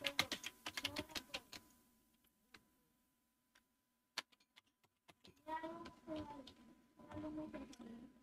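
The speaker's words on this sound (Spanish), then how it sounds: "damos clic en el usuario e ingresamos la contraseña" Computer keyboard keys click in quick bursts as a password is typed, close and quiet, with pauses between flurries and someone speaking over part of it.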